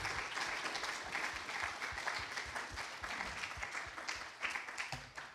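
Sustained applause from a lecture audience at a talk on the origins of war, dense steady clapping with no speech over it throughout.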